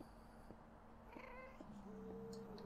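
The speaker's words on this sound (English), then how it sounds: "Oh, so they're making weird cat sounds." A Minecraft cat meows repeatedly in a survival game, several short tonal cries rising and falling over a faint background hum, fairly soft and without talk.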